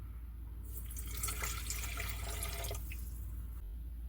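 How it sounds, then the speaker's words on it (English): Warm water pours into a stand mixer bowl in a short, steady splashing stream lasting about two seconds, close and fairly quiet, with no talk over it. "Next, I'm going to add 1 cup of warm water."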